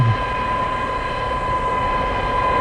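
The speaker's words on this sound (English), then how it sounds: "Here we go. We're taxiing in." Airplane taxiing on the ground after landing, heard from inside the cabin as a steady engine drone and hum with a constant tonal whine, loud and unbroken, no voices.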